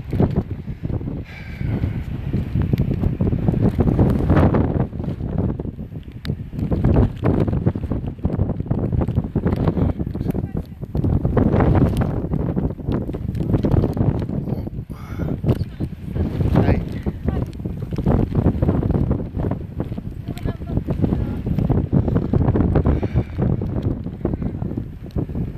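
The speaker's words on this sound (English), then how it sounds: "it's pretty windy here" Strong outdoor wind buffets the microphone in steady, loud roaring gusts that swell and ease throughout, with a low rumble underneath.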